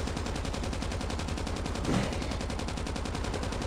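Rapid automatic gunfire in the Call of Duty Mobile Zombies raid mode, likely from an RPD, rattling as a steady, dense stream throughout with one slightly louder burst midway.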